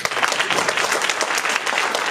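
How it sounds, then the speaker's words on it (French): Steady, dense applause from an audience at a local talent show, many hands clapping evenly at a moderate distance with no break. "On peut leur applaudir encore une fois s'il vous plaît"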